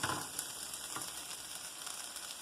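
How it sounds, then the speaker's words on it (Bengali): Vegetable chops frying in hot oil, giving a soft, steady sizzle and crackle that stays fairly faint throughout with no voices. "আর আমরা যে চপটা বানিয়ে রেখেছিলাম সেটা এখন ভাজবো।"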